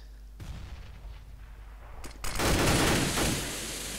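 Gunfire in Counter-Strike on the de_mirage map during a competitive match: a low rumble of distant shots, then a louder, dense burst of firing about halfway through that slowly tapers off.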